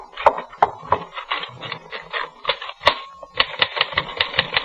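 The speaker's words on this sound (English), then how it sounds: "Then I was back at my typewriter" Typewriter keys clatter in quick, uneven bursts with sharp clacks and a carriage-like ding, close and dry, as a sound effect in a 1950s–60s radio mystery drama.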